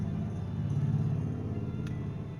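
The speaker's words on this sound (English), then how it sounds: "Loud ass car." A loud car rumbles past outside, a steady low engine drone lasting the whole moment with no voices.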